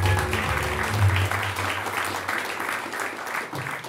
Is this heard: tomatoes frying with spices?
no